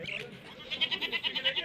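A goat bleats at a livestock market in a quick series of wavering, pulsing cries, fairly close, after a brief murmur of voices.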